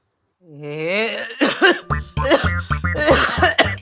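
A drawn-out groaning voice followed by a run of harsh, throaty coughs from a person with a fever, close and loud.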